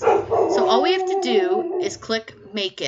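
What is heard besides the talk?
dog barking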